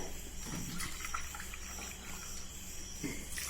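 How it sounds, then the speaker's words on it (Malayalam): Half a litre of boiled water pours into a bowl of puttu flour, a steady soft trickle running nearly unbroken, close and quiet with faint background hum. "അതിലേക്ക് 1/2 ലിറ്റർ വെള്ളം ഒഴിക്കുന്നുണ്ട്"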